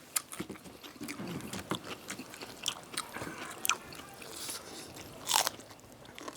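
Close, crisp crunching as someone bites and chews spicy mixed noodles with crunchy Cheongyang peppers, with irregular bites, soft chewing and a few louder snaps, and no talk.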